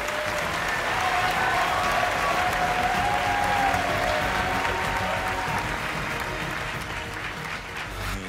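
An audience at the grand final of a beauty pageant claps loudly and steadily, dense sustained applause filling the room with a few faint whistles, slowly tapering off near the end.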